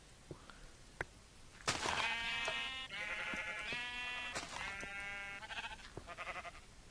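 Sheep in the Minecraft video game bleating several times in a row, wavering calls at moderate level over a faint background hiss.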